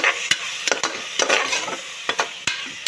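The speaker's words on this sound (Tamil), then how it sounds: "இப்போ இந்த க்ரீன் பேஸ்ட்டை நல்லா மிக்ஸ் பண்ணி விட்டுறலாம்." A green paste is stirred into masala frying for a mushroom biryani, giving a bright sizzle broken by sharp, irregular scrapes and clacks of the spoon against the pan, close and loud.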